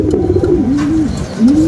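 A racing pigeon coos up close in soft, rolling, repeated phrases, a low warbling call that dips and rises over about two seconds.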